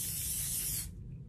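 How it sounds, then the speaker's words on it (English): Spray glue from an aerosol can hisses steadily onto a CD for about a second, close and fairly loud, then cuts off with a brief final puff. "So I'm going to spray glue"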